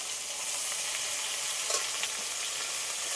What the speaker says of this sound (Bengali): এগুলো সব একসাথে একটু কষিয়ে নেব